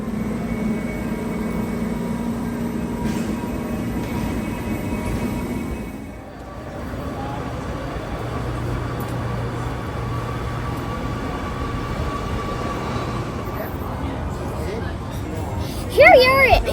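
A passenger train rolls into Amsterdam Central Station with a steady mechanical rumble and hum, heard from onboard. Voices and an announcement sound over it, and a brief squeal comes near the end.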